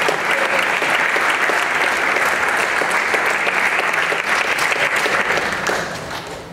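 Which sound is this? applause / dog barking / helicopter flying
applause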